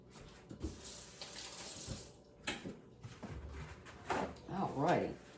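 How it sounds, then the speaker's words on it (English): A kitchen tap runs while hands are washed, with splashing water that swells louder toward the end, mixed with a few clatters and under brief talking. "Let me wash my hands."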